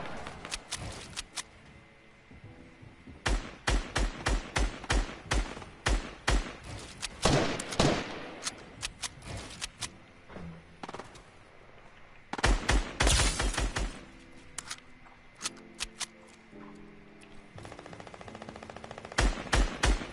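Bursts of rapid automatic gunfire and single shots from a PS4 video game match, firing in clustered volleys separated by brief lulls, loud and close, with no talking.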